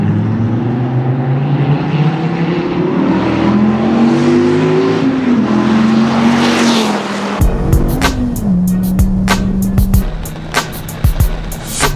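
A 2013 SRT Viper engine with side exhausts accelerates through rising gear pulls, a loud, close, steady engine note for about seven seconds before easing off into clicks and lighter revs.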